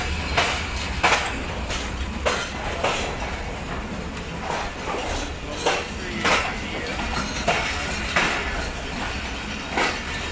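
Trains pass through Multan railway station at night, wheels beating a steady clickety-clack rhythm with repeated sharp rail-joint clatters over a continuous rolling rumble, close and fairly loud.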